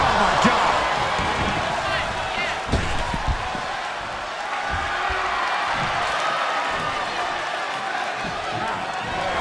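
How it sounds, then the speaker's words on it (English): Roaring wrestling arena crowd in the WWE 2K23 game, a continuous loud wall of cheering and noise with a few thuds and slams breaking through over the full length. "The sound of this crowd is deafening"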